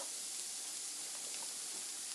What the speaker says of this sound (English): I'm gonna let this sizzle and get as crispy as it wants to be